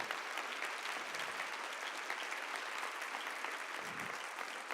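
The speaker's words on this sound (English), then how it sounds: "So give him a round of applause." An audience at a school opening event gives a round of applause, steady close-packed clapping at moderate volume that carries evenly through the whole stretch.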